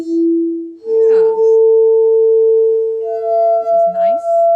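Synthesized wine glass tones from Chrome Music Lab ring out as clean, sustained pitches, stepping to a new note about a second in and again near the end, with soft glassy strikes at each change.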